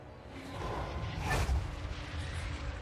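Artillery firing at a city wall during a siege battle in Total War: Warhammer 3. A single heavy boom lands midway over a low, rumbling battle background.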